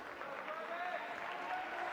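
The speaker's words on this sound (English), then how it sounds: "the Solent fans applauding Travis Charles as he is able to walk back to his bench" Solent Kestrels basketball fans applaud injured player Travis Charles as he walks back to the bench against Nottingham Hoods, a faint, distant wash of steady clapping from the crowd.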